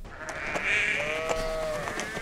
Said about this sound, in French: Il y a même des moutons.